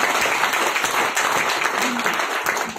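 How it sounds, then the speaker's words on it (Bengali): Audience applause at a seminar-style boot camp, dense continuous clapping from many hands throughout, fairly loud and close, with a brief voice faintly underneath. "তার জন্য একবার শিবশঙ্কর রায়, প্রতিমা ম্যাডামকে এবং যারা অর্গানাইজ করেছে একবার হাততালি।"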